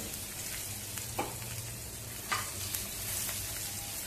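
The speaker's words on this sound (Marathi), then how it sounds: "आता लगेचच भरून घेतलेली मिरची आपण फोडणीवरती घालूया." Stuffed green chillies sizzle in hot oil tempering with hing, a steady moderate frying hiss with a few brief stirring scrapes, heard up close with no talking.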